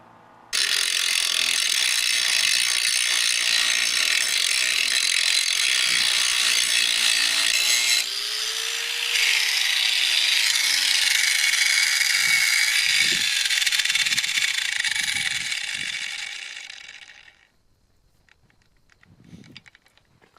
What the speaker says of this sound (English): Grinder's kind of noisy